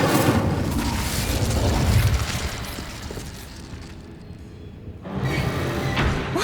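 Incendio fire spell cast in Hogwarts Legacy, a loud roaring burst of flame with a rumbling low end that fades away, then a second surge of fiery whoosh near the end, with no talk over it.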